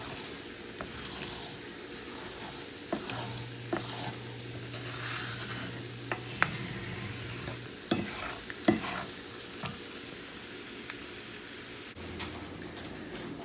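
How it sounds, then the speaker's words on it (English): Grated coconut sizzling in oil in a pan while coconut oil is rendered, a steady faint crackle with occasional stirring clinks and scrapes, no talking. "But while it's sizzling, you can still hear it sizzling."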